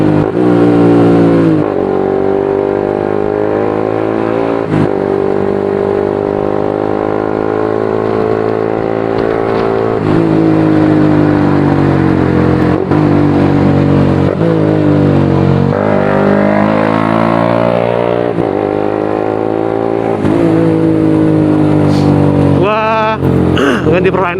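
A Suzuki GSX-S motorcycle with a Proliner full-system aftermarket exhaust revs repeatedly, rising and falling in loud throaty bursts with a raspy exhaust note, close by.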